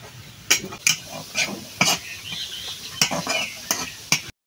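Bottle gourd curry with tamarind tempering sizzles in a pan while a utensil stirs it, giving a run of sharp scraping strokes over a soft, steady hiss, close and fairly loud, with no talk.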